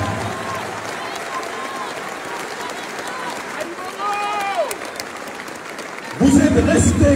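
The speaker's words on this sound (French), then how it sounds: "je vous demande de vous applaudir avec la plus grande puissance" A large crowd at a political rally in Haiti breaks into loud applause and cheering near the end, preceded by a man addressing the audience in French over an amplified system.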